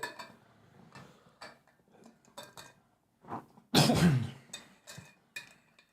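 A single sharp cough bursts out amid quiet clicks and faint ticking from a WarCraft III game, fairly close and louder than the surrounding sounds.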